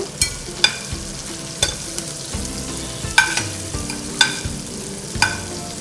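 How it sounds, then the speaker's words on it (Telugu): Curry leaves and plenty of cumin fry in hot oil for a bitter gourd sticks curry, a loud close sizzle with sharp pops and the clink of a stirring spoon at intervals, and no voices. "దీంట్లో కరివేపాకు వేసుకున్నాం కరివేపాకు కూడా కొంచెం ఫ్రై అయిన తర్వాత"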